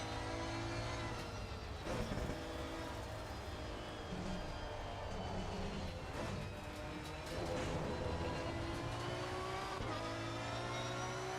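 A V12 race car engine revs hard at the Paul Ricard circuit, a loud, continuous howl with rising and falling pitch sweeps as it accelerates and shifts, steady throughout with no pauses.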